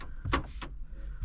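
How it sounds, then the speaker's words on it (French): Citroën C3 Aircross doors locking, two quick mechanical clunks close together with a brief whirring between, heard from inside the car. "c'est un bruit de verrouillage classique."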